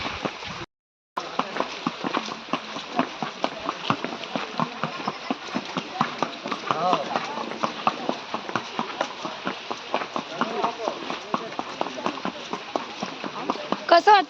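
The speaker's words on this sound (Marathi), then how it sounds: "आमची अशी घोड्याची सवारीही चालू आहे" Steady clip-clop of a ridden horse's hooves carrying children, a regular trotting rhythm close by, with people talking over it.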